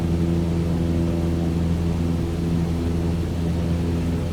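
Airplane engine in Microsoft Flight Simulator 2020, a steady, loud droning hum with a constant low tone and no change in pitch, continuous and heard alone throughout.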